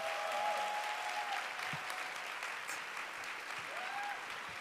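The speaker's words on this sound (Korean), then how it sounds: "큰 박수 한번 부탁드리겠습니다." An audience at a church's fourth-anniversary talk event applauds, a sustained wash of clapping from many hands that holds steady and fades slightly toward the end, with faint voices beneath.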